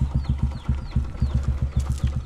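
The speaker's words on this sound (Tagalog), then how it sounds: "kainitin ko lang saglit yung makina niya" Car engine idling while warming up, a close, rhythmic low chugging pulse with rapid regular beats and some faint chirpy noise above, with no talk.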